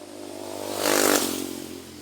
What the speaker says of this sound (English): let's let this motorbike go by.